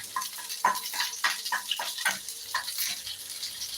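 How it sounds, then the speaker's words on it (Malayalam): Mustard seeds crackling and popping in hot oil, a close run of sharp, irregular pops over a steady sizzle. "നമ്മൾ അതിന് കടുക് വറുത്ത് കൊടുക്കുകയാണ്"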